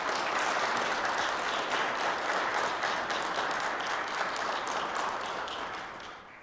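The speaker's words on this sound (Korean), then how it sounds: "여러분들 환영의 박수 부탁드리겠습니다." A church congregation applauding during a Sunday worship service to welcome new members, a steady wash of many hands clapping together that gradually fades out.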